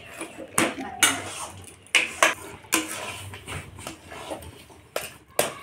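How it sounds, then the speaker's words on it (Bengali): Boiled flattened rice (chira) is mashed in a metal pot, with a spoon striking the pot in irregular clanks and scrapes, about a dozen sharp knocks spread over a few seconds, close by. "এই চিড়েটাকে জল দিয়ে সিদ্ধ করে একটু চটকে নিচ্ছি।"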